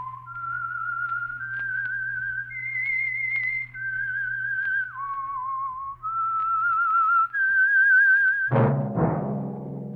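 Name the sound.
whistled tune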